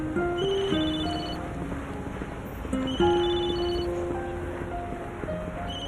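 A phone ringtone plays a bright melodic electronic tune in repeating phrases, loud and steady throughout, with no talking over it.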